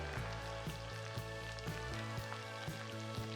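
Potato Maggi noodle snacks frying in oil, a close steady sizzle with soft regular taps and clicks throughout, no talking.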